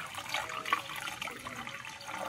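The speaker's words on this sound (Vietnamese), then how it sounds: "Là các bạn nghe chảy không, nghe được ống nó chảy không." Water drains through a pipe from a crab pond, a steady close gurgling flow with a soft splashy hiss, continuous and fairly even, with no voices.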